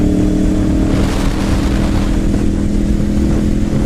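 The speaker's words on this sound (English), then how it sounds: "It's really good to be back on a sport bike." A sport bike motorcycle rides on a road, its engine holding a loud, steady drone with constant wind rush and no clear revving peaks.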